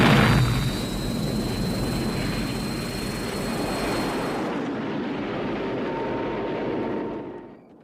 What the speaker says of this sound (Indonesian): Rambo pun pergi dengan pesawat menuju Vietnam.